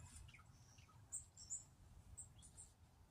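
A small bird chirping outdoors: a few faint, high, short tweets scattered over a low background rumble, with no talking.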